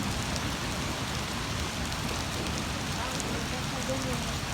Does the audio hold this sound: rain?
yes